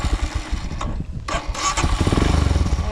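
Motorcycle engine cranking and catching, then revving up as the bike pulls away, loud and close with a throbbing rhythm building toward the end.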